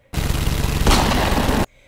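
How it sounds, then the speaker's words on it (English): Loud burst of rapid automatic gunfire in the war video game Ravenfield, a dense continuous volley lasting over a second before cutting off abruptly. "You bring this down some because the gunshots are just really loud."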